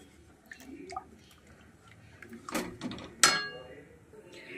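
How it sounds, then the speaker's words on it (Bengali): A spoon stirs boiling milk in a pot while a coconut filling is being made, producing a few brief, fairly close scraping and clattering bursts against a quiet background. "আমি একটু নেড়ে নিচ্ছি।"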